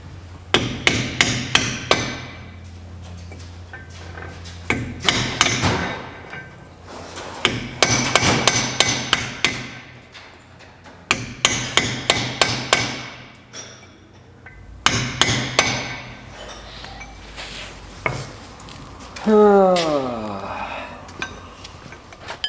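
Metal washer being hammered over a nut while repairing a hoof trimming table, sharp ringing metallic blows in rapid bursts with short pauses between, close and clear.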